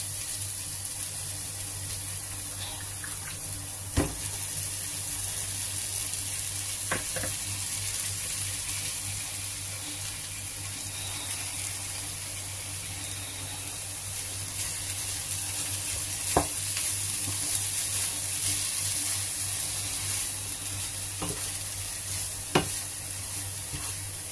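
Shredded cabbage cooking in a pan for cabbage sabzi curry, heard as a steady, even sizzle and hiss with occasional faint clicks of utensils, moderately close and without talk throughout.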